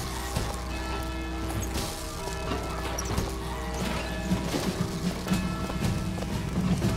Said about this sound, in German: wie hier dieses mechanische Pferd